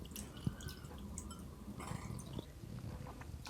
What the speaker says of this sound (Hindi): अब हमने पानी डाल के इसको 2 से 3 दफ़ा धोना है